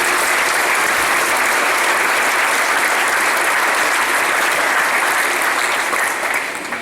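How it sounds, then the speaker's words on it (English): Loud, dense applause from a graduation audience after a musical presentation at a cadet ceremony. Many hands clap in a continuous roar that stays steady for several seconds before easing off at the very end. "a big round of applause again for your presentation"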